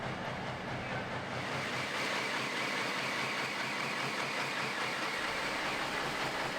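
A V12 diesel engine on a tractor-pulling machine at the BTPA and ETPC finals 2018 roars continuously and loudly while its big turbos whistle in a steady jet-like scream, with no voices.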